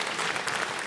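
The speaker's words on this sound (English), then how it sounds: "clap for the Lord" Audience applause at a comedy show, a short dense patch of clapping from a large crowd, continuous and moderately loud.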